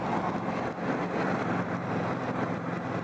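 A 2018 Indian Scout Bobber V-twin cruiser motorcycle engine gives a steady, fairly quiet rumble throughout, heard alone without talk.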